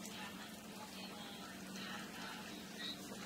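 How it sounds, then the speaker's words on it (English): Milk poured into cooked pasta for a creamy cheese soup gives a soft, continuous liquid rush, faint and steady throughout. "So, I'm going to add the 1/2 cup of milk."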